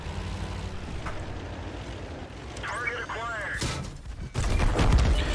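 A tank gun fires in World of Tanks from a WZ-131G FT tank destroyer: a sharp, loud broadband blast near the end, over a steady engine rumble and scattered battlefield noise.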